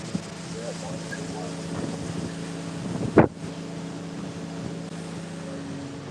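Boat outboard running on a sea trial in LA Harbor after a new power head was fitted, a steady low engine drone under gusting wind buffeting the microphone, with one sharp thump partway through.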